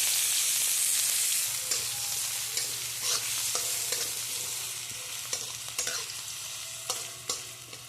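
Mustard seeds, cumin and onion fry in hot oil with a loud, continuous sizzle and crackle, while a utensil scrapes and stirs the pan in irregular strokes; the hiss slowly eases toward the end.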